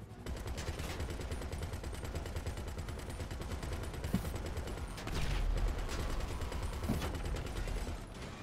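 Rapid automatic gunfire from Grand Theft Auto V, dense continuous bursts of shots filling the whole stretch with a few sharper cracks, loud and without speech.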